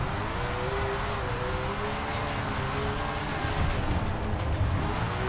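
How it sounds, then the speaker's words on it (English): A powerful race car in SRX roars with a steady, droning engine note while its rear wheels spin, a continuous loud mechanical hum with slowly wavering pitch and no other sounds. "You can just hear this thing spinning the rear wheels."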